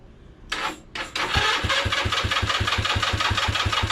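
A scooter engine with a likely weak battery cranks briefly twice, then catches and settles into a fast, even idle, close and loud, with no talking.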